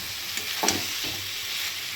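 Khichdi vegetables sauté in a pan for a Bengali-style khichdi, giving a steady close sizzle with a few soft stirring scrapes and no voices.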